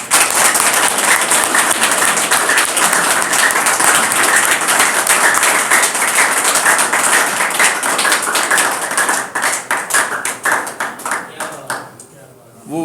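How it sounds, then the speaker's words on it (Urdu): Loud, sustained applause from an audience at a ceremony for an award winner, dense clapping continuing for over ten seconds before thinning out near the end. "بھرپور تالیاں بجائیں"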